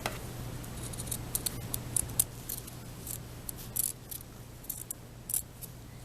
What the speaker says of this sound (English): I'm going to come through and trim off all of this extra stuff that's in the seam allowance